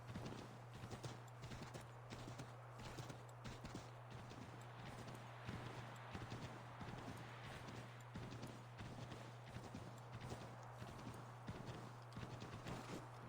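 Steady rhythmic clip-clop of horse hooves at a quick pace in the video game Assassin's Creed, faint and continuous over a low hum.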